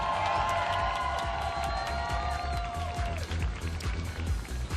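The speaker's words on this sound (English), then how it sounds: "The USA chant rings around Chicago lakefront." Large outdoor crowd cheering and chanting along the Chicago lakefront during a supertri League triathlon finish, a steady loud roar with rhythmic chant pulses and whistles, tones of a passing horn or siren sliding down over it.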